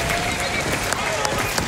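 A crowd at a Summer Games Done Quick speedrun event applauds in a brief, steady patter of clapping, with talk over it.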